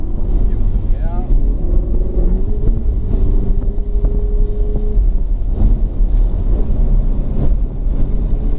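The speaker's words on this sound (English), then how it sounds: "give it some gas all the way down" Ferrari 488 engine on a race track, a loud, steady roar with rising tonal pitch as it accelerates, heard from inside the car while an instructor talks over it.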